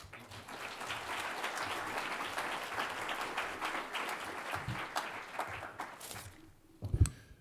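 Audience at a conference plenary session applauds to welcome a speaker, a steady dense clapping from many hands that tapers off, followed by a brief thump near the end.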